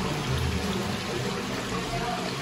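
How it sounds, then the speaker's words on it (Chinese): Running water in a cave-style hot spring pool with wooden tub baths in the Blue Mountains, a continuous close trickling and pouring wash with faint voices beneath. "听到那个水声吗？"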